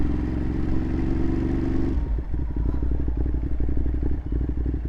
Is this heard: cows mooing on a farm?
no